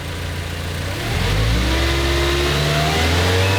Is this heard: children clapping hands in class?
no